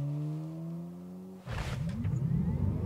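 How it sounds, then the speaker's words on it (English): A 2020 Tesla Model 3 accelerates from 0 to 100 km/h, a rising electric motor whine heard from inside the cabin. A rushing whoosh of road and wind noise builds under it. "I want to show you the acceleration of the car."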